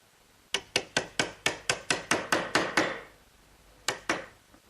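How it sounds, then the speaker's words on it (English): Sharp chisel strikes cleaning a square rabbet corner in wood: about ten crisp, evenly spaced knocks in a quick rhythm, a brief pause, then two more, close and clear with no talk. "So I'll clean out that area with a nice sharp chisel."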